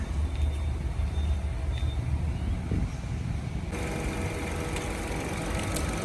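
A 2012 Mazda2 1.5-litre automatic car engine idles steadily with a low rumbling hum, close by, continuing evenly for several seconds without speech.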